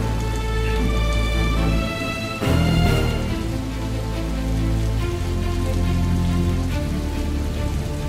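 Heavy rain pours down steadily, a dense, loud hiss of drops drumming on surfaces with a brief louder splash partway through, mixed with a low steady hum and some tonal background sound.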